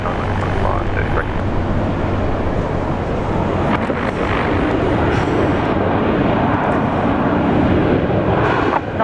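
A Jetstar airliner in special pride livery lines up on the runway at Brisbane International Airport, heard as a constant loud engine roar and broadband rush at moderate distance throughout, with faint radio chatter mixed underneath during a storm.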